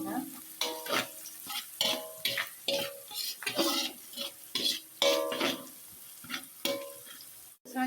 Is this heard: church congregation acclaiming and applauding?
no